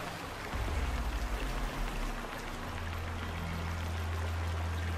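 A waterfall in the Far Cry 4 video game gives a steady rushing, splashing wash of water, continuous and fairly loud, with a low rumble underneath and no talking.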